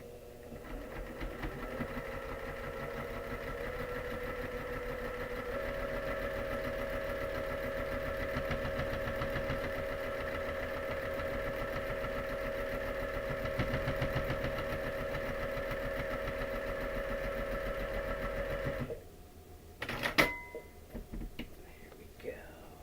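Quilting sewing machine stitching a quilt along the seam line, a steady continuous whir running for about nineteen seconds before stopping, followed by a few brief clicks and handling knocks.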